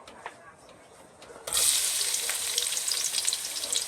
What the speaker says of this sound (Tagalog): mainit-init na yung natin, kawali natin. Pagsabayan na natin yung bawang tsaka sibuyas.